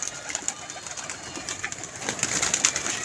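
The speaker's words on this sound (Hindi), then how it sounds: "रंगों में भरा हुआ कबूतर" Pigeons coo softly amid a busy outdoor background, with fluttering and scattered bird noises growing slightly louder toward the end.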